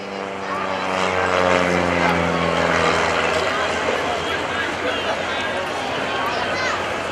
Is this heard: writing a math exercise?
no